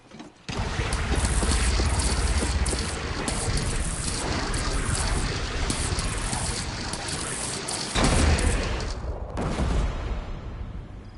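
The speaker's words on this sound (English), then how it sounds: "Well, this is a new cannon." Cannon fire in the video game Horizon Zero Dawn, a dense, loud, sustained roar of blasts and crackling debris that drops out briefly near the end before one more burst, with no voices.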